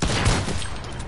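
Gunfire in a Fortnite-style building battle game, a dense burst of shots packed into about a second, loud and steady throughout, with no talk over it.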